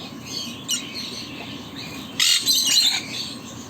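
A pet bird offered for sale in Saudi Arabia gives a few short chirps, one brief call early, then a louder burst of tweets near the end, over quiet background noise.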